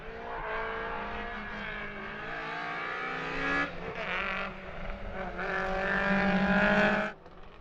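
A rally car driven sideways on a stage roars past with a sustained engine note, rising and dipping as the revs change and swelling again before cutting off, heard from a moderate distance.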